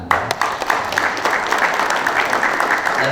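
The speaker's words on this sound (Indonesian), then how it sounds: "Ya, tepuk tangan." Audience applause at an official signing event, steady dense clapping from a crowd held at a loud level throughout.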